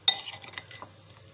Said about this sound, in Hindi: अब इसको करेंगे मिक्स, ताकि ये मसाला और नमक और इमली जो है वो इसमें अच्छी तरह से मिक्स